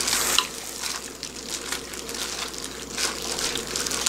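Marinated beef bulgogi sizzles and fries in a hot pan over high heat, a steady crackling hiss with occasional louder spatters, close and continuous without talk.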